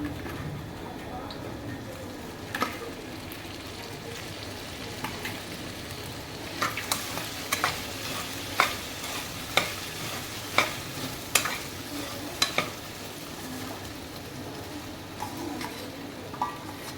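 Sabudana khichdi with potatoes sizzles in a pan while a spoon stirs it, giving a steady frying hiss broken by sharp scraping clicks against the pan, with faint voices now and then.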